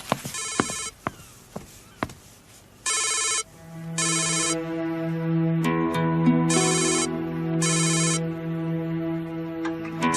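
A telephone rings in repeated electronic bursts, clear and fairly close, with some soft bumps and a sustained tone in between and no talk over it.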